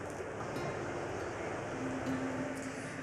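Bridal Veil Falls, a waterfall in Provo Canyon, Utah, gives off a constant, even roar of falling water heard from a distance, with a faint steady hum mixed in and no voices.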